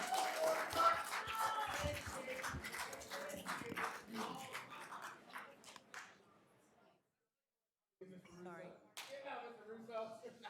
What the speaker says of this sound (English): please no clapping and applauding